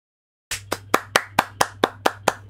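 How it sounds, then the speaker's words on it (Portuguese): One person gives a short round of applause: eight steady, evenly spaced hand claps, close and clear, starting abruptly after a brief silence. "Salva de palmas pra você."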